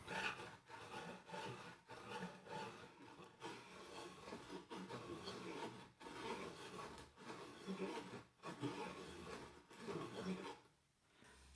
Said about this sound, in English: I'm just going to take my rasp here and try to clean up the edges just a little